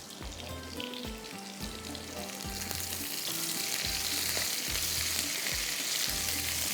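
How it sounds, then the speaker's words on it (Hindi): Onions fry in a pan for aloo tahiri, a loud continuous sizzle growing brighter over time, with rhythmic scraping strokes as they are stirred. "इसको अच्छी तरह से फ्राई करेंगे।"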